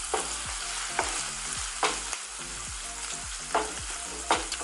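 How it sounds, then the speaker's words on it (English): Pepper steak browning in a hot pan, sizzling steadily while a utensil scrapes and stirs it in a series of distinct knocks and scrapes, loud and close, with no talking. "I just mix everything around, kind of make everything get browned on each side"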